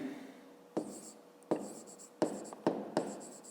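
Handwriting during a fifth-grade maths lesson: several separate scratchy pen strokes arrive in short bursts roughly every half to one second, close and fairly quiet, with no talking.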